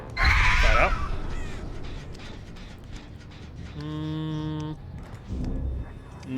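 Crows caw in the horror game Dead by Daylight: a loud burst of harsh calls at the start, then a sustained tonal cry and a further rustling burst, with faint background game ambience.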